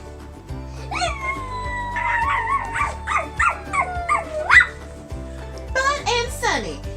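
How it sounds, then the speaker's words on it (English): Puppies sired by a dog yip and whine in a series of high, sliding cries, with a longer howl-like call near the start and another burst near the end, fairly close over a low background hum. "Now to introduce the puppies born from Jim the Wonder Dog"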